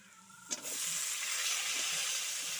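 Bottle gourd tipped into a pan of potatoes fried until reddish-brown, giving a sudden burst followed by a steady, loud broadband sizzle that holds without pause, with no talking.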